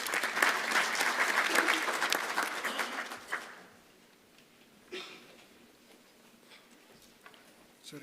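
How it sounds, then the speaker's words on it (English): Conference audience clapping for a speaker at an engineering conference: a dense burst of applause that holds for about three seconds, then fades out into quiet room sounds with a few faint bumps. "A round of applause for him, please."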